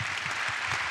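A brief smattering of audience applause at an awards evening, a soft, steady clatter of clapping lasting under a second, heard on its own.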